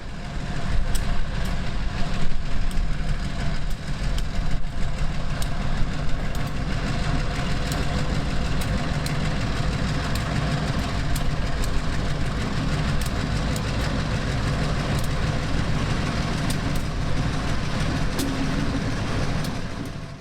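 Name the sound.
CSX freight train locomotive engine idling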